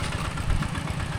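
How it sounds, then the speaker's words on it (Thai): A farm tractor engine rumbles steadily at close range as the tractor drives through water, giving a short, continuous low drone. "ลุยน้ำไปเลยโอ้รถไถนาลุยน้ำเลย"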